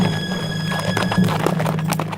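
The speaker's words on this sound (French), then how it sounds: "il entendit un bruit de galop" Horses of a group of riders gallop in an animated tale, quick irregular hoof clip-clops close by over a steady humming musical background, with a brief whinny-like tone.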